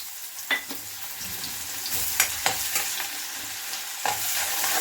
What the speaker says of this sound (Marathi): कांदा चांगला लाल होईपर्यंत आपल्याला होऊ द्यायचं आहे तेलामध्ये